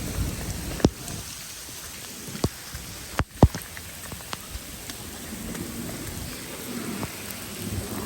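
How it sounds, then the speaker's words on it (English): Heavy rain pours outdoors during a flooding downpour, a dense steady hiss of water with sharp crackling thunder or drop impacts scattered throughout, no voices. "I never seen rain out here like this."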